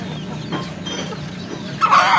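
Native hens in a backyard flock cluck softly and steadily at close range, with a louder, sharper call bursting out near the end.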